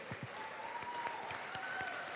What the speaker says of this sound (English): Let's give a round of applause for these special employees